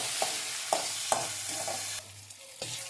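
Food stirred and frying in hot oil, a steady loud sizzle broken by several sharp scraping strokes of the spoon, close up with no voices.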